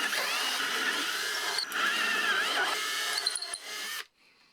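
A power drill enlarges guide holes for blind nuts in a Gilmore Red Lion Racer 33cc model airplane, giving a close, loud, whining squeal that shifts pitch as the bit cuts, then stops abruptly near the end.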